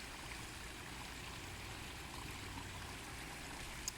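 Small garden waterfall spilling over rocks in a backyard pond in July, a soft continuous trickling and splashing stream, steady and fairly quiet with no voices.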